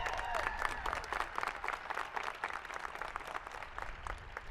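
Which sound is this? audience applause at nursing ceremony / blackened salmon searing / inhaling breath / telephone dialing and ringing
audience applause at nursing ceremony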